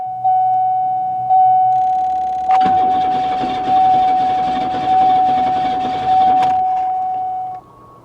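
A fuel pump on a long-sitting 1970 Chevy Monte Carlo, heard as a loud, close whine with a steady tone and a rough mechanical groan that rises and falls in repeated pulses, then cuts out.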